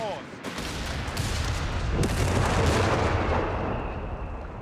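Dense, continuous battlefield gunfire and artillery from the WWII strategy game Company of Heroes 3, with heavy booming rumble and crackling shots layered without pause, loud and close, with faint in-game voices.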